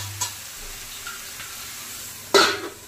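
Spices and vegetables for jackfruit seed dal sauté with a soft, low sizzle in a pan, broken by light stirring taps and a sharp metallic clank near the end.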